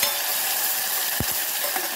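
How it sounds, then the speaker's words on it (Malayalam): Ground masala paste dropped into hot oil, crackling and spattering in a dense continuous fry with a couple of sharper pops, close and alone. "അപ്പോൾ അത് എണ്ണയിലേക്ക് ചൂടായി കിടക്കുന്ന എണ്ണയിലേക്ക് ഇടുമ്പോൾ ഒരു പൊട്ടലും ചീറ്റിലൊക്കെ ഉണ്ടാവും."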